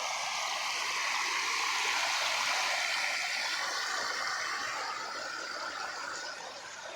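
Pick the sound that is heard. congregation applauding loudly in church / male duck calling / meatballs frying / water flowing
water flowing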